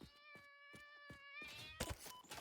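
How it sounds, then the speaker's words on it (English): A video game cat lets out a run of meows, several short evenly spaced cries followed by a louder, longer one, close and clear, then a burst of noisier sound at the end. "I hear cats."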